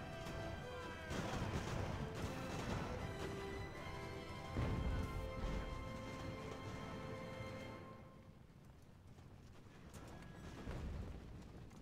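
Cannon fire from sailing warships in the naval battle game Ultimate Admiral: Age of Sail, a dense run of loud booming blasts and crashes for most of the stretch, thinning into quieter rumble near the end.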